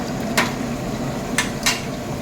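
Pieces of chicken lollipop dropped into sauce in a pan, giving a few distinct clattering clinks over a faint steady sizzle, without any talk.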